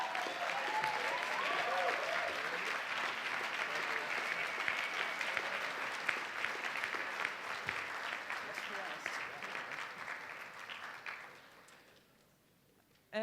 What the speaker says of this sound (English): I guess that was the last applause for the Skinny Atlas community